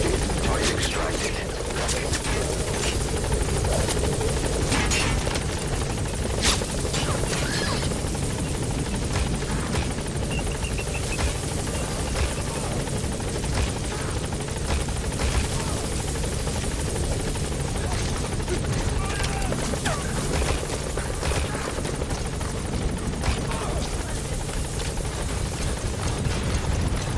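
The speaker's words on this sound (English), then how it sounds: "The map support helicopter has arrived." A support helicopter's loud, continuous rotor thrum with rumbling engine noise fills the scene throughout in Metal Gear Solid V: The Phantom Pain, with voices speaking intermittently over it.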